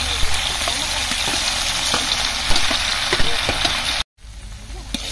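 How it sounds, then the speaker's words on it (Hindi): Ginger garlic paste frying in a pan with onions and green chilies, for a large batch of bagara rice: a steady broad sizzle with faint stirring knocks, briefly cut out near the end. "अब अदरक लहसुन का पेस्ट डालेंगे।"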